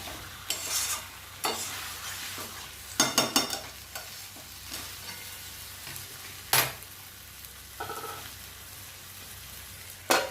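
Food being stirred and sautéed in a pan during home cooking, with scattered scraping stirs and clatters over a soft steady sizzle, close by and intermittent with quiet gaps.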